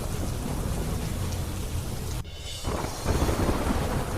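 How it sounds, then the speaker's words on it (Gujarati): Heavy downpour in Malpur, Aravalli, a loud dense roar of rain with a deep thunder rumble, a brief dip in the middle before the torrent surges back. "અરવલ્લીના માલપુરમાં ધોધમાર વરસાદ"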